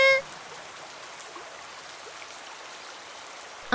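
Cartoon rain pours in a Malayalam animated fairy tale, a steady, dense hiss of falling water heard alone without any talk.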